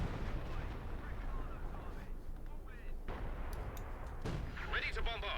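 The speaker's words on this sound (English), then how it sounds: "Artillery fire inside the base again from the Sexton." Sexton self-propelled artillery firing in the strategy game Company of Heroes 2, heavy booming shots and rumbling blasts rolling under a dense battle mix, with a few sharp high pops near the end.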